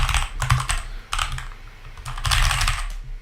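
Typing on a computer keyboard in several close bursts of rapid clicking keystrokes separated by short pauses, heard alone without speech.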